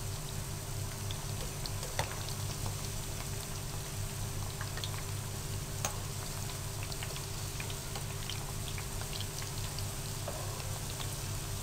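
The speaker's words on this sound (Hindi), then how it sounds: "आपने इन्हें मीडियम आंच पे फ्राई करना है।" Keema and vegetable pakoras fry in oil over medium heat, giving a steady, even bubbling sizzle with scattered small pops and crackles throughout. There is no talking.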